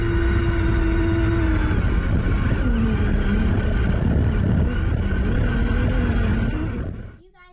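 A Lego Mindstorms 51515 Robot Inventor RC truck pulling a trailer drives with a loud, steady electric motor whine and gear hum that holds for several seconds and then cuts out abruptly near the end.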